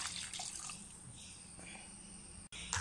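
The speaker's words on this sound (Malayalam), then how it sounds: "എന്നിട്ട് നമ്മൾ കുതിർത്ത് വെച്ച ഈ വാളമ്പുളി ഇതിലേക്ക് ഒഴിച്ചുകൊടുക്കും." Soaked tamarind water is poured into a mackerel curry, a quiet trickling splash lasting a couple of seconds with a brief break near the end.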